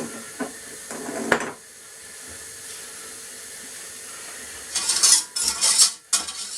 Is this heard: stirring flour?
yes